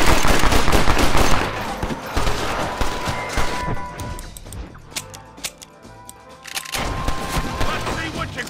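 Rapid gunfire rattles through a Red Dead Redemption shootout at a house where hostages are held, loud cracking volleys at first, then scattered sharp shots with brief lulls, shouting voices mixed in.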